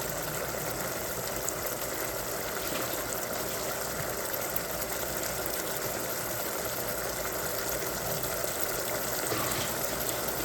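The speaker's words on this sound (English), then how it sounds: "I'm going to add some water." Water pours steadily into a cooking pot on a stove for Haitian-style rice and peas, a constant broadband gush that holds at moderate loudness for about ten seconds with no voices.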